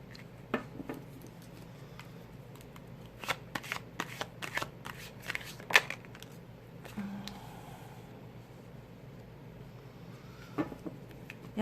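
A tarot card deck being shuffled in a quiet room, with soft riffling bursts and scattered card snaps that come and go over several seconds.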